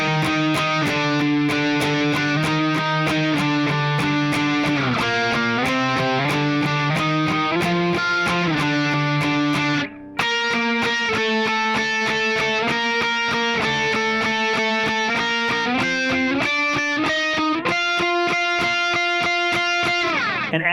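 An electric guitar plays the lead part from the bridge of a song, a continuous run of bright, sustained notes, loud and close, that breaks off for an instant near the middle and then carries on.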